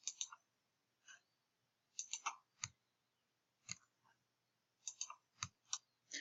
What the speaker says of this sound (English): to delete a note, just click on the X